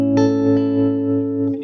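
A sustained electric guitar chord through a Trelicopter tremolo pedal rings out with a steady wavering tremolo effect, loud and close, fading slightly near the end.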